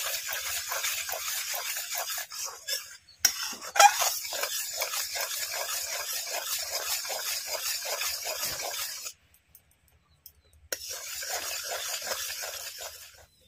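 Gram flour being mixed into boiled sugar syrup, a soft continuous rubbing and scraping that stops briefly twice, with a near-silent gap before the stirring resumes. No one speaks.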